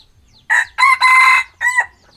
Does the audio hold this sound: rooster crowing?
yes